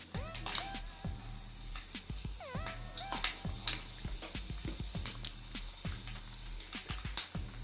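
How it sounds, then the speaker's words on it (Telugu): Cumin, fenugreek seeds and four dried red chillies crackle and sizzle in hot oil, a steady dense fry broken by sharp popping seeds and occasional spoon scrapes against the pan. "జీలకర్ర 1/2 స్పూన్, మెంతులు 1/2 స్పూన్ వేసుకుందామండి. ఎండుమిర్చి 4,"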